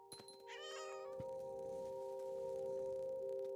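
A single drawn-out cat meow from the video game What Remains of Edith Finch rises over a steady electronic tone, followed by a sustained hum.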